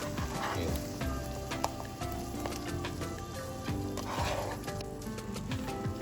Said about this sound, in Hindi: अब इस वक्त हम इसमें आलू शामिल कर लेते हैं।